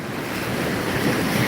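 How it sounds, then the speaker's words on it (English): Strong wind buffets the microphone at a beach in Cuba, with a steady broadband roar and surf washing beneath it, loud and continuous throughout. "that wind is pretty rough"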